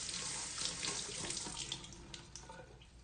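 Garlic gets rinsed under a running kitchen tap, a steady hiss of flowing water splashing in a sink for about three seconds, close and even in level, with no voices.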